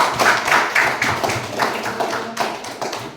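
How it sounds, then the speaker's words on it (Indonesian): Classroom applause from students after a group presentation, a dense burst of many hands clapping at close range with uneven rhythm, steady for a few seconds and then tapering, with no talking over it. "Tepuk tangan."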